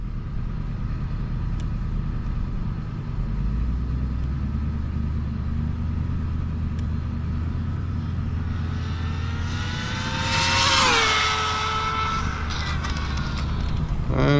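A Hobao VTE 2 RC car on a speed run, its electric motor whining up in pitch as it races past mid-clip, over steady broadband rumble and wind from outdoors.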